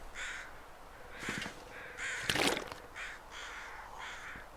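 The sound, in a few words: crows cawing in The Long Dark video game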